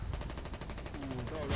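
Rapid machine-gun fire in the war game Foxhole, a fast, evenly spaced burst of shots hammering on close and loud, with a voice calling out over the end.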